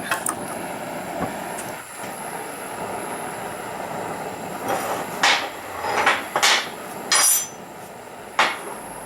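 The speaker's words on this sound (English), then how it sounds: "I can't really hammer them the way I like to" Sharp metallic hammer strikes ring out in uneven clusters, some in quick pairs, setting rivets on a riveted stand for a 150-pound Trenton anvil, over a quiet background hum.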